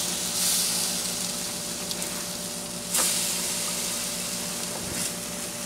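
Low-carb French toast frying in a pan, a soft, steady, faint sizzle with a low hum in the background and a couple of brief louder hisses, no talk.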